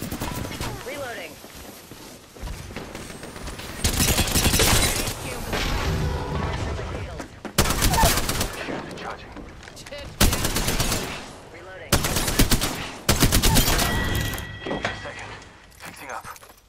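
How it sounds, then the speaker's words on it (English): Gunfire bursts in the battle royale game Apex Legends, loud clustered volleys of automatic weapon fire that come in repeated sharp blocks separated by short quieter gaps, with voice lines and other game sounds in between. "Getting shot at. Under fire."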